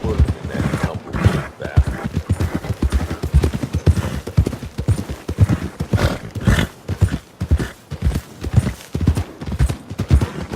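Horse hooves clip-clop in a steady walking rhythm in Red Dead Redemption 2, close and prominent throughout, with a brief whinny.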